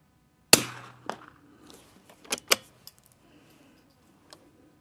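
A 52D rifle firing Eley Tenex rounds at a range: one sharp, loud report up front, followed by a few softer clicks and clacks of action handling and a couple of quieter sharp snaps.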